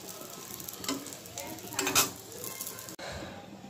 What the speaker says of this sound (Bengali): এই যে ডিমগুলো ভেজে নিলাম